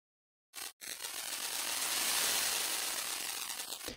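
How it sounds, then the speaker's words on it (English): Granular synthesis in the Arturia Pigments software synthesizer produces a dense, noisy, grainy texture that swells and sustains for a few seconds at a soft level, alone without talk. "You can turn on granular, and what this does is it essentially will make very small micro snippets of the sound"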